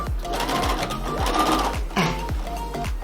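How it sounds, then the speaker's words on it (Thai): A sewing machine stitches back and forth across a jeans waistband, rapid rhythmic needle thumps in short bursts with a brief pause in the middle, close and loud. "เวลาเราย้ำนะ เราจะย้ำที่สุด ของปลายที่ผ้าที่เราจะเย็บ"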